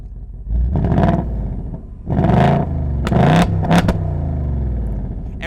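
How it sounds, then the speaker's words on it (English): A 2024 Ford Mustang Dark Horse engine, started remotely by key fob, revs in three loud close bursts, each rising and falling, with a rough idle rumble between them. "It'll start revving it for you."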